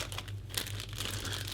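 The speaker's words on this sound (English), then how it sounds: "These little plastic bags with a zip size." A plastic zip-seal bag crinkles close up in a short, continuous burst of rustling with a steady low hum underneath and no voices.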